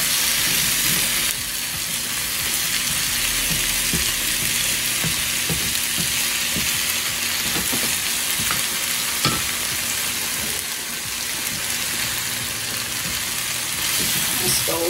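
Southern breakfast potatoes frying in a skillet on the stove, a steady loud sizzle with scraping and tossing clatter throughout, a voice briefly heard in the background.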